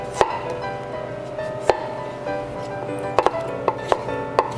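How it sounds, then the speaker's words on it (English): A knife cuts zucchini into julienne strips on a cutting board, giving sharp, irregular chopping taps close by, with brief quiet gaps between strokes and no one talking. "We're gonna julienne the zucchini"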